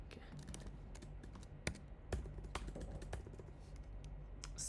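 Faint, irregular clicks of keys being typed on a computer keyboard, scattered over a low background hum.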